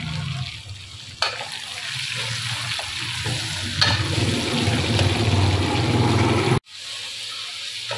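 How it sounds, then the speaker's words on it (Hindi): Chicken with a spoonful of salt fries and is stirred in a pot, giving a steady close sizzle with scraping spoon strokes that runs for several seconds, then stops abruptly near the end. "चिकन हमारा कितना प्यारा इसमें मिक्स हो रहा है, कितना प्यारा इसकी तलाई हो रही है"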